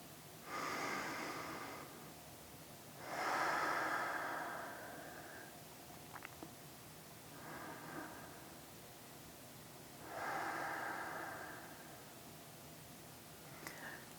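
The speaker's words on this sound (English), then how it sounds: "staying here for a few big deep breaths" Slow, deep breaths during a seated yoga twist, five long airy inhales and exhales spaced a few seconds apart, close and soft against a quiet room.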